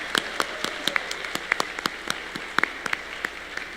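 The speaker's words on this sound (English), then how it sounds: "Let's get another round of applause for him" Scattered audience applause at a college staff event, a thin patter of individual claps spread across the whole stretch at moderate distance, with no talking over it.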